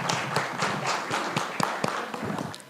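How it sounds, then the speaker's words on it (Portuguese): Lecture audience at a beekeeping association evening talk clapping to welcome a speaker, a fairly close group with individual claps standing out in an uneven rhythm, loud and continuous. "Vamos fazer palmas para receber a Carolina"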